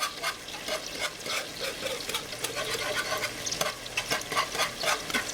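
A wire whisk stirs thick cooking grits in a pot, giving soft, steady wet scraping and churning with faint clinks against the pot, fairly quiet and close, with no talking.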